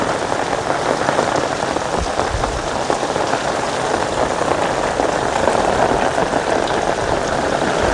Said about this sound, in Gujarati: જોરદાર વરસાદ સાથે ભાઈ